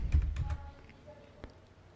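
Computer keyboard typing on an Ubuntu computer, a short burst of close, quick key clicks at the start followed by a few sparse taps, with faint background noise.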